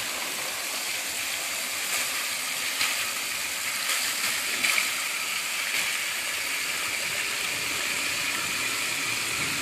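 Water pouring into a container holding ice, a continuous loud rushing gush with a few faint clinks and knocks, heard close and steady throughout.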